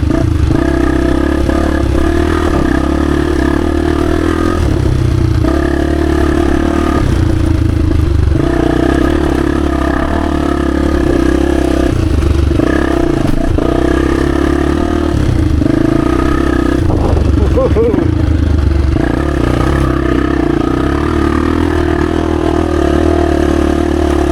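A 1996 Honda XR250 dirt bike engine runs loud and continuously through tight single-track woods, its note swelling and easing with the throttle, with some clatter.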